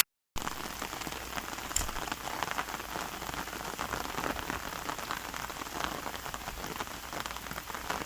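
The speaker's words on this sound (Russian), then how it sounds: "Потому что дождик идет." Steady rain falls on a vegetable garden after hail, a dense, even patter of drops that stays constant and fairly soft, with no voices.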